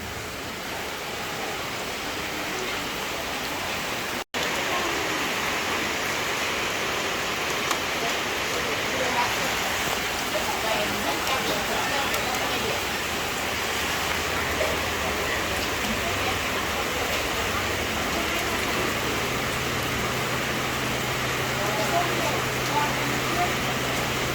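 Heavy rain and strong wind make a dense, continuous roar that holds steady for over twenty seconds, with a brief dropout near the start.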